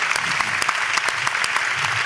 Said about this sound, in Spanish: Y yo solo quiero pedir un grandísimo aplauso final para Ian Gibson